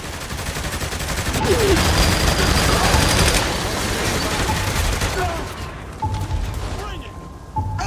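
A Morningstar brute in Saints Row The Third fires a gun in sustained rapid bursts at a tree, loud and continuous for several seconds before tapering off, with voices talking over it.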